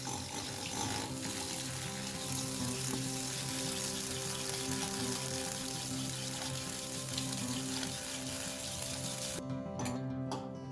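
Handheld frother mixing sugar and water in a glass, a steady buzzing whir with liquid churning, moderately loud and continuous, ending with a few clicks near the end.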